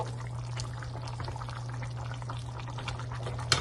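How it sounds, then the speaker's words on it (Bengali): Beef karahi curry simmering toward a boil in a pot, a steady low bubbling hum with occasional soft pops and a brief louder burst near the end, heard alone. "এটা কিন্তু বলক চলে আসছে।"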